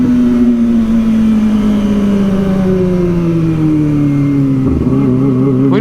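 A motorcycle engine revs steadily and loudly up close, its pitch drifting slowly downward with a brief throttle blip near the end, no voices over it.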